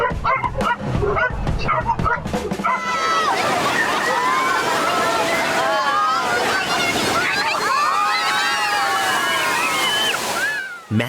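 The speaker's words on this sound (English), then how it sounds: "Massive waves suddenly swept through this natural pool in Kiama, Australia, dragging tourists into the surging water" Massive waves surge and slosh through a natural rock pool at Kiama, Australia, a loud, continuous wash of churning water with dogs barking and voices mixed in throughout.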